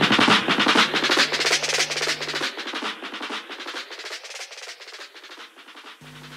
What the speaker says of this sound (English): Which is a sort of reggae dub effect.